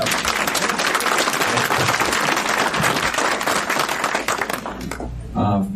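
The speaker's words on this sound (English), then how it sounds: "let's hear a big round of applause for our current president." Loud, dense applause from an audience greeting the current president at a district representative's campaign event, a steady roar of many hands clapping throughout before it fades near the end.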